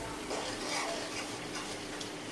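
Chicken mince cooks in a pan with a soft, steady sizzle and faint scraping of a stirring spoon, close and continuous without talk.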